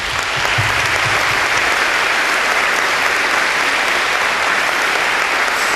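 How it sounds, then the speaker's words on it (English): Sustained applause from an audience at a League of Legends ceremony for United South, a dense, steady wash of clapping with no voices. "I ask everyone to please join me in giving them a big round of applause"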